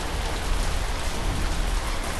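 Steady, dense rainfall in the Animal Crossing video game, an even close hiss of drops on surfaces with no talk over it.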